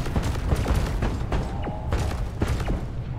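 Rapid gunfire from a player's weapon in the co-op mining shooter Deep Rock Galactic, a loud dense burst of shots and thumps continuing through the whole moment with game noise behind.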